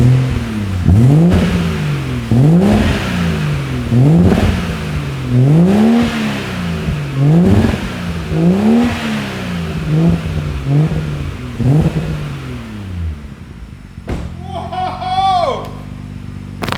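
A BMW B58 straight-six swapped into an E46 revs hard in a string of rising and falling blips, loud and close, before settling and cutting out near the end.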